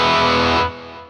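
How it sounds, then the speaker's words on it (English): An electric guitar runs through a Fractal amp modeler with a volume pedal at the front of the chain. A heavily distorted sustained chord rings loudly, then suddenly drops in level and gain, with no talking. "as I bring it down, I'll get less signal and therefore less gain and distortion"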